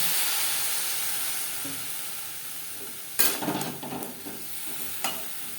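Vegetable stems with grated coconut fry in a pan with a steady close sizzle, then a burst of louder stirring and scraping clatters a few times near the end.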